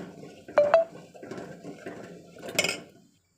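Crushed jaggery being stirred in a pot for semiya payasam, a few loud metallic scrapes and clinks of a spoon against the pot between quieter gritty stirring, close and without voices.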